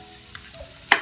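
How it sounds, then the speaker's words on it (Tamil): Cumin and green chilies are sautéed in hot oil, with a soft steady sizzle and a couple of quick stirring scrapes in one brief moment up close. "இதை நல்லா வதக்கி விட்டுடுவோம்."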